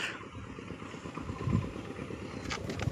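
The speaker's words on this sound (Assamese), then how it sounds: "এই মানুহজন হেণ্ড ট্ৰেক্টৰেদি হাল লৈ আছে" A small engine putters steadily with a rough, clattering chug, moderately close, with faint background noise.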